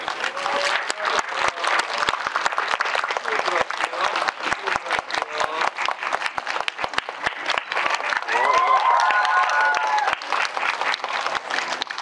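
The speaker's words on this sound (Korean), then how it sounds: "큰 박수로 맞이해주세요" A large audience claps to welcome a film director and actors at a movie talk event, steady dense applause for twelve seconds with scattered cheers and voices rising near the end.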